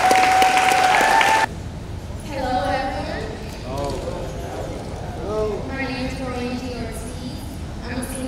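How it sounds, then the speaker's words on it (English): A school community audience bursts into a short loud round of applause at an Eastside High School event, quickly giving way to a speaker talking. "Let's give them a round of applause"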